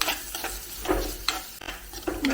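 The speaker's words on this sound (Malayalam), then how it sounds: "ഇഞ്ചിയും വെളുത്തുള്ളിയൊക്കെ ചേർത്തും രണ്ട് മിനിറ്റ് ആയിട്ടുണ്ട് രണ്ട് മിനിറ്റ് ഒന്ന് വഴറ്റിയിട്ടുണ്ട്" Ginger and garlic sauté in a pan with a continuous sizzle and repeated scraping stirs from a spoon, up close.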